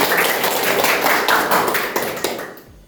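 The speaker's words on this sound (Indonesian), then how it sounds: "Aplaus dulu untuk semua rekan-rekan" Applause from attendees at a community gender-awareness family session in Glagahmalang hamlet: a steady, dense crowd clapping that stays loud throughout and tapers off near the end, with no talking over it.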